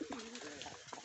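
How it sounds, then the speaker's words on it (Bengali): Red wild pigeons busy eating freshly scattered feed indoors give a brief, soft coo, fairly close and quiet. "মাত্র খাবার দিয়েছি কবুতরের।"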